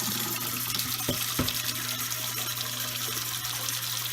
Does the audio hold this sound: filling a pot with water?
yes